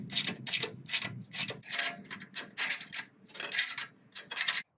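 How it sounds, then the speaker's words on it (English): A socket ratchet tightens a nut on a stud of a Willys Jeep radiator, compressing the welting. It makes close, rhythmic clicking and rasping strokes, about a dozen short pulls in a row, with no voice. "Using a socket, tighten your nut down until your welting just starts to compress"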